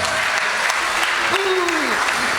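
An audience at an evangelical mission gathering applauds loudly and continuously, a dense wash of clapping that fills the whole moment, with voices calling out over it.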